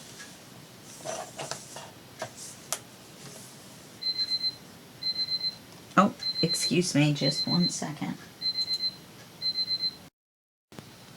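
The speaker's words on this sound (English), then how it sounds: "My alarm went off for my medicine, even though I'd already taken my medicine." A phone alarm set as a medicine reminder beeps in repeated quick triplets, fairly close and steady, while someone speaks briefly over it amid light handling clatter.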